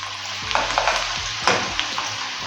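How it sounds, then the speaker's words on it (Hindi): Onions frying in hot oil while being stirred, a steady close sizzle broken by repeated scraping and clattering strokes of a spoon in the pan. "ऑयल गर्म हो चुका है। अब इनको फ्राई कर लेंगे। इनको अच्छी तरह हिला लेंगे।"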